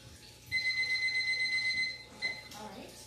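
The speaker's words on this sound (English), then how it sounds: "Setting the timer again." A kitchen oven timer being set gives a steady run of rapid electronic beeps for over a second, followed by a short second beep, with a voice speaking nearby.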